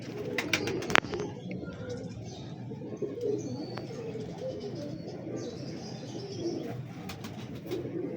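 Sialkoti pigeons coo in low, rolling murmurs throughout, with a sharp knock near the start and scattered chirps above a steady background hum.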